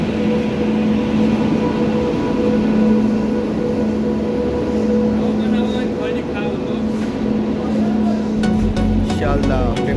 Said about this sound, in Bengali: সামনে আস্তে আস্তে করে ঢুকছে ট্রেন।